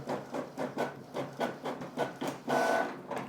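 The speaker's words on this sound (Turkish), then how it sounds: "Yazdırma işlemini başlattım." A Canon G3430 ink tank printer running off a page, with a steady series of rhythmic mechanical chugs and whirs about every third of a second, heard up close with no voices.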